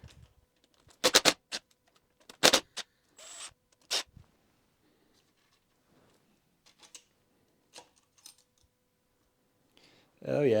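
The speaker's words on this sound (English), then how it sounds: "Let's remove the bearing shell." Bearing shell coming off a BMW N43 engine in a teardown: sharp metallic clicks and clacks in short bursts, several close together early on, then sparse faint taps, ending with a louder scrape.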